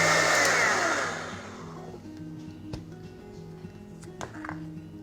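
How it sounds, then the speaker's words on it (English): A blender whirs through a banana smoothie with ice, loud at first and then quickly fading away, leaving soft background music with a couple of faint taps. "Blend until smooth and frothy,"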